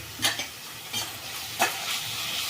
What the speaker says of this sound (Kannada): ಈ ಹೀರೆಕಾಯಿ ಎಲ್ಲ ಚೆಂದಾಗಿ ಎಣ್ಣೆನಲ್ಲೇ ಫ್ರೈ ಆಗಲಿ